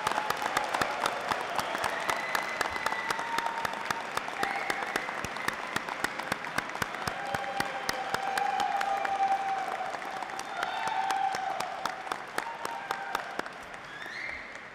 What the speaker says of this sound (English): Let's give everyone one final round of applause.